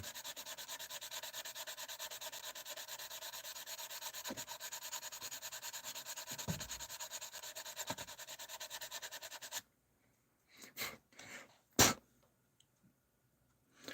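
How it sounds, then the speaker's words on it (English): Steady, close rubbing of sandpaper on a model diorama base, a continuous dry scratching for about nine seconds, then stopping, followed by a few short scrapes and small handling knocks. "I am sanding the base for my model diorama"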